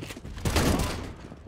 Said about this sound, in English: Benkai again with that Mag 7